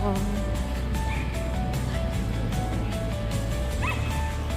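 Dogs bark and yip intermittently at a distance over busy outdoor street noise and a low traffic rumble.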